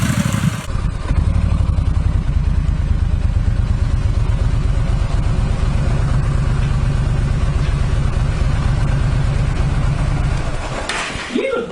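A motorcycle running close by in a home garage setting, a steady throbbing engine note held for several seconds after a brief start, loud and near, with people talking around it.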